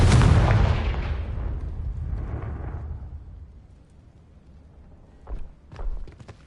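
In the Hogwarts Legacy video game, a Confringo blasting spell lands as a loud, booming explosion that rolls away over a few seconds. Two softer thumps follow near the end.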